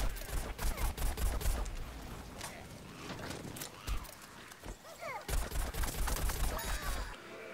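Rapid gunfire from the foot soldier's weapon in Plants vs Zombies Garden Warfare, repeated sharp shots in quick bursts amid game sound effects, with a voice talking over them.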